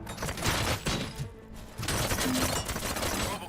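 Gunfire bursts in the shooter game RoboCop: Rogue City, loud and dense, with rapid overlapping shots and mechanical clatter across the scene and a brief lull midway.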